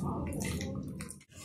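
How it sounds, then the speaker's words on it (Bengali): Thick plain sour yogurt, a large 2.5 kg batch meant for raita, pours wetly into a bowl in a home kitchen, a steady soft sloshing that runs for a moment before ending in a brief pause. "দই ঢেলে নিয়েছি একটি পাত্রে।"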